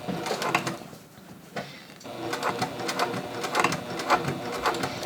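A sewing machine stitches the hem of tapered jeans, running in steady bursts with brief pauses as the fabric is walked over a thick seam, close and clear throughout.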